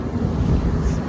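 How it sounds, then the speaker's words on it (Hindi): Wind blowing outdoors in San Francisco, a loud, steady rumbling gust buffeting the microphone with no break. "बाहर भी हवा चल रही है"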